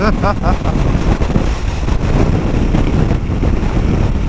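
Strong wind buffets the microphone with a loud, continuous rumble and rush, drowning out a voice heard briefly at the start.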